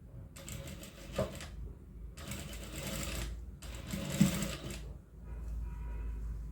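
A sewing machine stitches piping onto a ready-made blouse in three running bursts separated by short pauses, its motor whirring steadily and close by while a low hum continues underneath.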